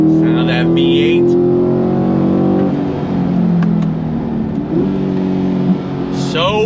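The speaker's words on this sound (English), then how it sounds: "Sound of that V8." A Corvette C8 Stingray Z51 V8 fitted with an AWE exhaust drones loudly and steadily while driving, the engine note shifting pitch as it revs, heard close from inside the car.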